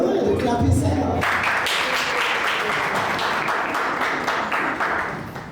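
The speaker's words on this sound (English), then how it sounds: "Clap yourself." Miss Jamaica Festival parish queen contestants clap for themselves in a room, a short voice at first, then a steady crowd of handclaps that tapers slightly toward the end.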